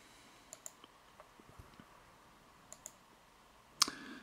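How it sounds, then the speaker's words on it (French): Quiet, close computer mouse clicks, scattered singly and in quick pairs with pauses between, ending in one slightly louder click, with no one talking. "Donc là il faut que je clique"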